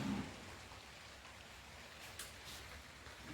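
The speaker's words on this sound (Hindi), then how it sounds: "बारिश पड़ रही है भाइयों" Steady, soft hiss of rain falling, continuous and even throughout with no voices.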